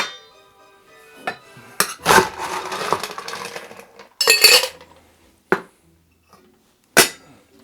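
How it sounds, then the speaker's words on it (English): Ice clatters into a tall cocktail shaker for a keto Grinch cocktail, a burst of hard clinks and rattles followed by a couple of sharp knocks and a final clink, close and fairly loud with no talking. "So we're gonna add some ice to our tall shaker."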